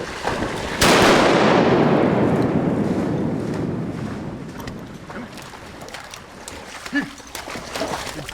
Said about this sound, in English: Shoot 'em, boys.